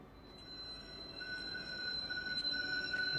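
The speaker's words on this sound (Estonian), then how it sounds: "Tramme sõidab küll palju." Tram running along Laikmaa street in Tallinn, a steady low rumble building gradually as it approaches, with faint high metallic wheel squeal on the rails; no voices.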